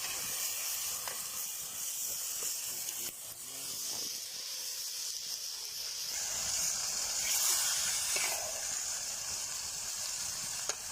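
Village white chicken pieces sizzle steadily in a hot pan over an open cooking fire, a continuous bright hiss that swells slightly midway, with no talking.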